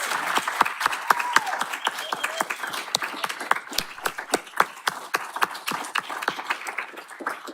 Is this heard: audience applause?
yes